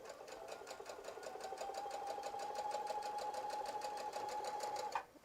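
A sewing machine stitches fabric for a face mask, running steadily for several seconds with a fast, even mechanical whir before stopping abruptly near the end.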